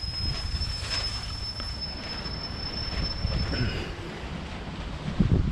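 Strong wind at a campsite in central Amsterdam buffets the microphone in a constant low roar with gusty surges, loudest near the end.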